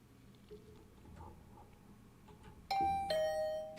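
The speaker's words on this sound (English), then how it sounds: "I woke up to the sound of my doorbell instead of the usual ridiculous announcement" Two-tone electronic doorbell chime ringing in The Hundred Line -Last Defense Academy-, a Japanese game, sounding as a bright ding followed by a second tone near the end after quiet ambience.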